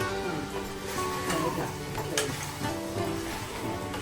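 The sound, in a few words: ginger garlic paste and turmeric frying in oil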